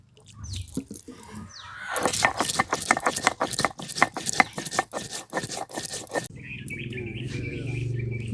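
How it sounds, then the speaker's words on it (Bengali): Mustard seeds being ground into paste on a stone slab, a rhythmic series of rapid scraping and grinding strokes, close and distinct, tailing off into quieter rubbing. "এই সর্ষেটা আমি বেটে নেব।"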